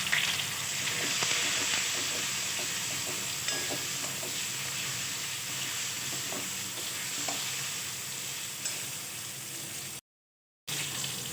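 Potatoes fry in hot oil with turmeric, giving a loud, continuous sizzle with faint stirring scrapes that keeps going throughout and cuts out for a moment near the end.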